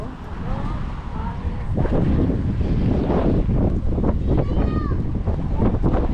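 Strong wind gusts buffet the microphone at a beach, roaring and rumbling loudly with surf underneath, while people talk over the blustery noise.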